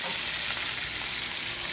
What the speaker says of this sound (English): you can just go to the pan on low heat and start rendering the fat out